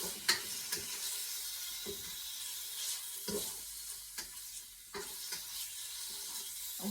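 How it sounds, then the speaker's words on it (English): Turkey, pepper and broccoli stir-fry in oil with a steady sizzle, punctuated by repeated scraping stirs of a utensil in the pan, close and clear with no talking. "you're going to add your pepper and your broccoli now after the meat is done"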